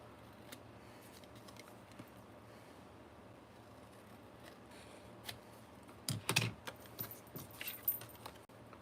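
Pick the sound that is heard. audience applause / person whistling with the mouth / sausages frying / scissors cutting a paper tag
scissors cutting a paper tag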